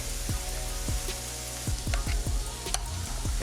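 An egg fries in a hot pan over a high burner, a steady close sizzle with repeated sharp pops and crackles scattered throughout, no voices.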